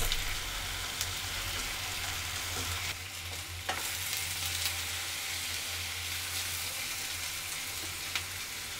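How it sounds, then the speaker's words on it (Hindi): Onion and turmeric fry in a pan for a Kashmiri mutton rogan josh, giving a steady, close hiss with a low hum beneath and a few soft stirring clinks, with no talking. "अब इसमें जाएगा ये हमारा प्याज, हल्दी हाफ टी स्पून लिया मैंने"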